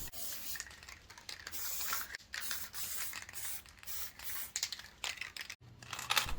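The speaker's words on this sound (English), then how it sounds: "paint the grey bits black using a cheap spray can, so we just have to work in nice small bursts, nice thin coats" Spray can painting grey parts black in short hissing bursts, several spurts separated by brief pauses, close and fairly loud with no talking.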